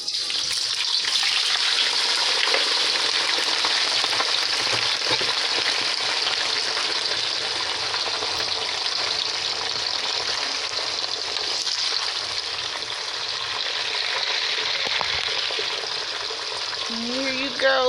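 Potatoes and onions frying in very hot grease give a loud, steady, broad sizzle that holds unbroken from start to finish, close up and with no talking over it.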